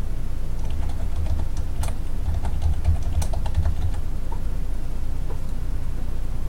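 Steady typing on a computer keyboard while editing a WordPress footer PHP file, close-up clicks in quick irregular runs with a few sharper keystrokes, no voices.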